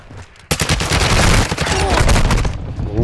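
Rapid gunfire bursts from Call of Duty: Modern Warfare II DMZ mode, loud and dense, starting abruptly and continuing as sustained volleys with overlapping shots and booms, while a player speaks over the action.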